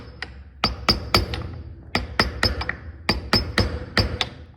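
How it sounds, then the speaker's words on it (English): A rubber hammer taps workpieces seated in a vise on a small milling machine, about fifteen sharp, close knocks in quick clusters separated by short pauses. "I'm going to use a rubber hammer. I'm going to give everything just a little tippy tap"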